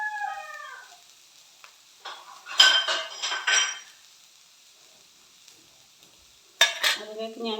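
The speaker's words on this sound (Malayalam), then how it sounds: "നല്ലോണം അങ്ങനെ ഇളക്കി യോജിപ്പിച്ച് കൊടുക്കുക." Curry leaves stirred in a pan for chicken chatti pathiri, with a few bursts of metal spoon scraping and clinking against the pan between quiet gaps and brief sizzle.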